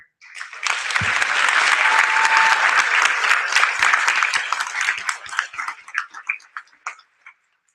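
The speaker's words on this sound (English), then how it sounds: "please join me in a round of applause to welcome our guest speaker" An audience at a high school NJROTC change of command ceremony applauds to welcome a guest speaker, a loud sustained burst of clapping that thins into scattered claps before stopping.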